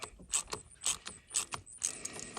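Ratchet wrench loosening a battery hold-down fastener on a 2018 Ford Edge, heard close up as a series of quick metallic clicking bursts in an uneven rhythm, with no voices.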